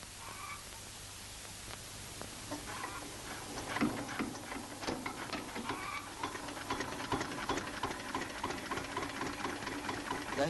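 A tractor's diesel engine runs steadily nearby with a fast, uneven ticking and knocking rhythm and no voices.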